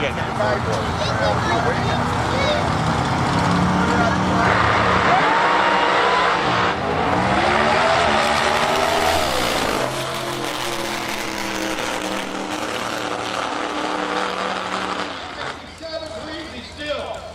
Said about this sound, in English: here's a big turbo come up as he gets staged up